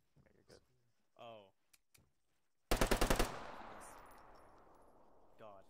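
A short, loud burst of rapid gunfire from a tactical shooter video game, six or so sharp shots that ring out into a long fading echo, with brief speech just before it.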